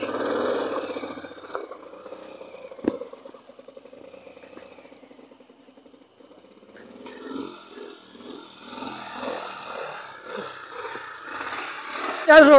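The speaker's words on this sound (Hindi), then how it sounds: "गाइस देखो बाइक चढ़ ही नहीं रही है।" A motorbike engine chugs and pulses unevenly while struggling on a hillside near Udhampur, close and moderately loud, then sinks under people talking nearby.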